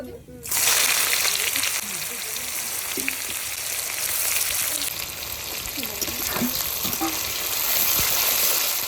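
Onion sizzling in hot oil with chili, bay leaf and cumin, a dense continuous frying hiss that starts abruptly as the onion goes in, with occasional stirring clatters and someone talking over it.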